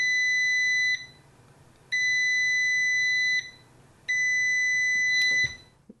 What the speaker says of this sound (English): The beep starts before the green light comes on.